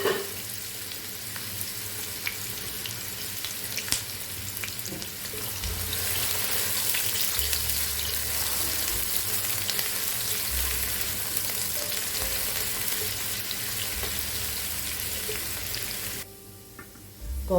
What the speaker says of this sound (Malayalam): ഇതൊന്ന് ചൂടായി കഴിയുമ്പോൾ ഒരു ഉള്ളി സ്ലൈസായി അരിഞ്ഞതിട്ടിട്ട് നമുക്കൊന്ന് ഫ്രൈ ചെയ്തെടുക്കാം